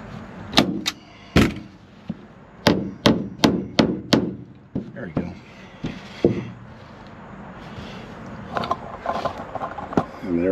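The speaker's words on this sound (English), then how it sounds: "Just putting a few more staples around the border." Sharp staple gun shots fastening interior upholstery in a 1968 VW bus, about nine loud snaps in a quick irregular series, then quieter handling, rustling and tapping, close up with no talk.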